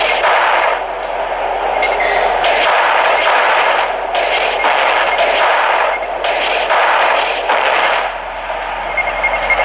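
Rapid gunfire from a hovercraft in the Switch video game Bridge Strike, loud repeated bursts of shots pulsing in a steady rhythm over a constant engine drone.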